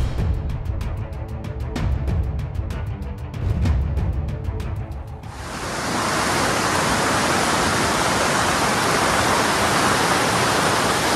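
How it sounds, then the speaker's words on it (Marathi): Heavy stream of water rushing through Kalu waterfall after rain. A dense, loud, continuous roar surges in after a few seconds of rougher, clattering flow and holds steady to the end. "कारण हे सगळं पाणी असं वाहत येत आहे आणि या बाजूला जात आहे"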